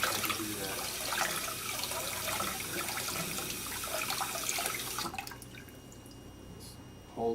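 Tap water runs into a sink while vegetables are rinsed, a steady splashing stream that cuts off near the end, leaving quiet drips.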